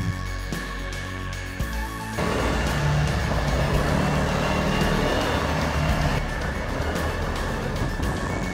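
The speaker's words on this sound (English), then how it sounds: "now we're gonna do some road tests so we can see how this old car handles in a modern day environment." Vintage Toyota Sports 800 driven on a road test, engine idling with rumbling clatter before a sharp jump into a loud, steady driving roar that holds throughout.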